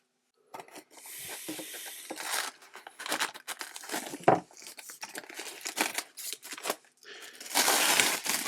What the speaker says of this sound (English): Now it's got tape wrapped around it, so we're going to have to cut that somehow.